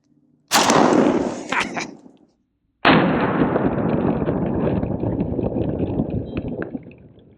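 Langdon Tactical 1301 shotgun firing Remington double-up buckshot at a steel armor plate outdoors: two loud, close blasts about two seconds apart, each followed by a long rumbling decay.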